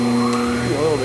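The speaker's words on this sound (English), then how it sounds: "Right, dust collector." A dust collector runs in a woodworking shop during cabinet door sanding, giving a loud, steady motor whine with a strong hum that holds through the whole short stretch.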